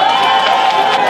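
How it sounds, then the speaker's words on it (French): Audience applause and cheering at a Paris gathering, a dense steady wash of clapping with crowd noise, loud and close throughout the brief moment. "Je voudrais qu'on salue et qu'on applaudisse Doumbia Major."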